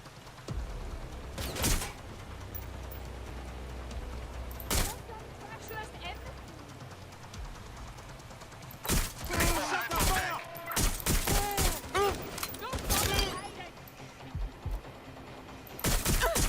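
Automatic gunfire in the video game Watch Dogs Legion, loud sustained bursts and rattling volleys that come and go, with character voices shouting between and over the shots.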